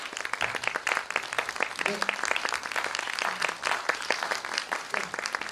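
An audience claps enthusiastically as guests, director Jung Yoon-chul and writer Kim Young-ha, are welcomed onto a talk-concert stage; continuous crisp clapping with a host's short voice briefly over it.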